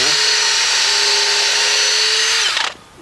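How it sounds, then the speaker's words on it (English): Power drill pre-drilling holes in wood while a propagation frame is being built, one loud steady whine held for about two and a half seconds before it winds down and stops. "we'll go ahead and pre-drill two."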